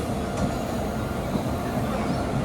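The Howrah Ranchi Shatabdi Express and the Ganadevta Express with new LHB coaches moving in opposite directions, a continuous close rolling rumble of wheels and coaches, loud and unbroken.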